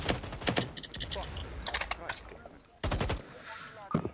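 Rapid bursts of automatic gunfire from a Rainbow Six Siege-style Pro League esports match, loud crackling volleys starting and stopping in quick succession with a brief lull mid-way, while commentators talk over it.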